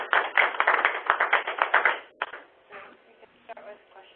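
A short burst of audience applause closes a webinar talk on custom compounding, dense clapping for about two seconds before thinning to a few scattered claps and faint room noise.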